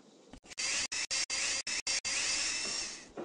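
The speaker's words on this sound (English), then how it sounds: "Use the drill to make holes for the wheel axles." A drill bores holes for wheel axles in the Tonka Workshop video game, with a loud whirring, hissing buzz cut into short bursts before one long sustained run, with no voices.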